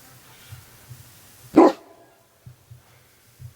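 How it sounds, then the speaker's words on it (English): A single short dog bark pops out against a quiet background, surrounded by soft low rumbling growls at chirping birds that come and go. "He's growling at the birds chirping."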